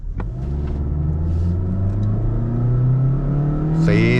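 A 2023 Mazda2 accelerates hard on a track ahead of a dry-surface braking test from 80 km/h, its engine rising in a loud, steady drone close by with a brief higher whine at the end.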